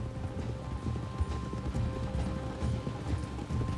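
Horse hooves clip-clop in a steady, continuous rhythm in Red Dead Redemption 2, fairly close and moderately loud over a low rumbling background.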